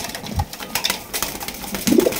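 A pair of pigeons gives a low, soft coo near the end, brief and close, over faint background rustle.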